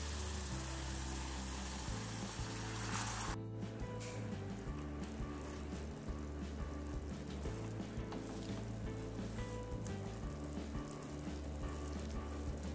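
Hot water poured onto sugar in a pan, giving a constant hissing sizzle with a brief louder splash near the start, all under a low steady kitchen hum.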